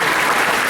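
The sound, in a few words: audience clapping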